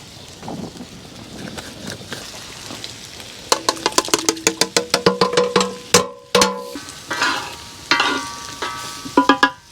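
Garlic stirred into a Dutch oven of butternut squash stew over an outdoor fire pit, with loud, close, rapid scraping and clattering strokes in bursts over a steady sizzle.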